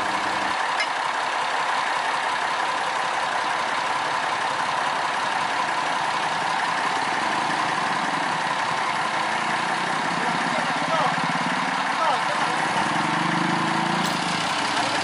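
A sugar cane railway locomotive idles steadily at a sugar mill line at the start of the milling season, a continuous mid-low engine rumble holding even and fairly loud throughout with no talk.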